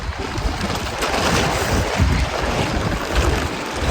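Strong wind roars in a dense, steady rush of broadband noise, buffeting the microphone at close range with slight gusting swells and no voices.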